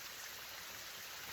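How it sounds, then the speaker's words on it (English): Rain beginning on a wet, mossy hiking trail, a soft continuous patter and hiss of drops, faint and even throughout with no voices. "it's starting to rain"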